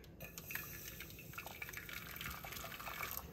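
Hot water is poured into a burnt-stained pot sprinkled with sodium percarbonate, giving a steady splashing, bubbling rush that stays fairly loud and continuous throughout with no voices.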